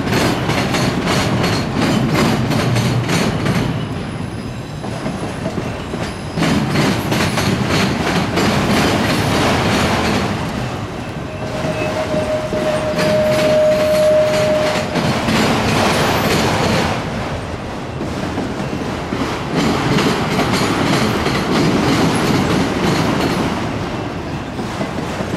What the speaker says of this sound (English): Definitely another train coming.